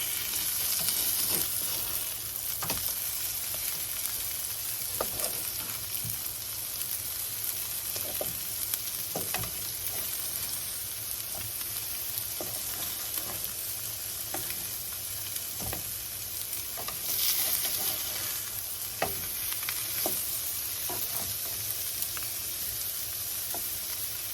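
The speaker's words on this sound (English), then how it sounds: "go over to the steaks and see how they're doing, because they're over there frying" Steady sizzling of steak burgers frying in a hot pan, a continuous crackle with occasional sharper pops, close by and without talk.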